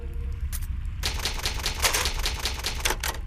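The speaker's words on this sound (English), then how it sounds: "you save your game using typewriters" Typewriter keys in a Resident Evil Remake safe room, a rapid run of sharp mechanical clacks striking close and loud over a low steady hum, with no voices.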